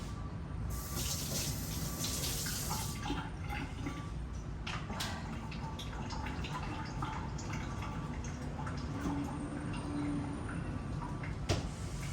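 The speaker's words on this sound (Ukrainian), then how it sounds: "Тепер заливаю все водичкою." Water pours from a tap into a pot of food while cooking vegan sausages and meatballs, a steady splashing trickle with scattered drips and light clinks, close and fairly quiet.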